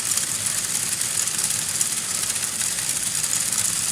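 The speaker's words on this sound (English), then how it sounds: "We have this medium motor controlling our tracks through the middle. Our large motor down here controlling our elevation." LEGO motors, a medium and a large one on battery boxes, drive a swing carousel with a steady loud whirring hum that holds constant throughout, close up and without talk.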